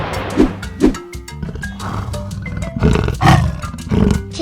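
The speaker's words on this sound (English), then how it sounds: "This voice is leopard." Leopard roaring in a series of harsh, rasping grunts and roars, several bursts of varying loudness close together, the strongest near the end, with no talk.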